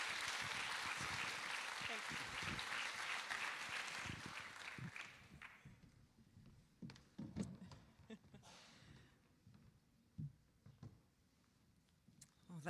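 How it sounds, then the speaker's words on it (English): Loud audience applause at a children's literacy campaign event, with dense clapping that fades out after about five seconds, followed by scattered thumps and a voice talking. "Give yourselves a round of applause"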